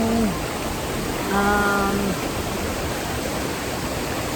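Awao Falls gives off a steady, dense roar of rushing water, loud and unbroken throughout, with a short tonal cry briefly rising over it.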